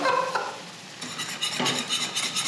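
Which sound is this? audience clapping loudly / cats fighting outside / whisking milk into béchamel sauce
whisking milk into béchamel sauce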